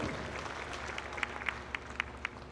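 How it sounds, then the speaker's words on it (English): Applause from a crowd at a Jersey heifer show, a steady patter of clapping with a few louder individual claps standing out near the end. "let's give the exhibitors a round of applause"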